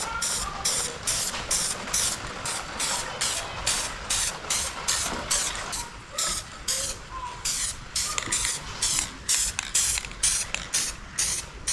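Rapid repeated aerosol spray bursts laying a light coat onto a restored Chevrolet Squarebody truck steering wheel, a steady rhythm of short close hisses with brief gaps between them.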